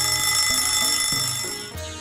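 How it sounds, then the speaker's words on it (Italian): A kitchen alarm clock rings to signal that steamed rice is done, a loud continuous high-pitched electronic beeping alarm heard close up with a low pulsing buzz underneath throughout. "La sveglia ha suonato, quindi il nostro riso può essere tolto dal fuoco."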